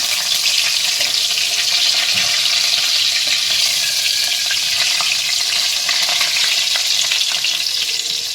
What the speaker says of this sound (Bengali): এবার এটাকে ফ্রাই করবো, করে তোমাকে দেখাবো পুরো একদম করে নিয়ে উল্টে দিচ্ছি একটা একটা করে